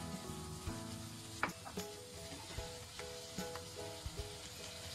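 Cabbage and rice cakes stir-fry with Korean-style chili paste in a pan, a soft steady sizzle broken by occasional scraping clicks of the spatula, faint and close with no talking.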